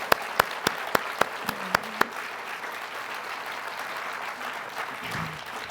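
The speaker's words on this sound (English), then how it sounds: "I want to applaud them." Clapping at the San Leandro State of the City 2016 address, opening with a few sharp, distinct claps before settling into a thinner, lighter spatter of applause that carries on at moderate volume.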